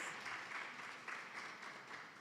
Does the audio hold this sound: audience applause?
yes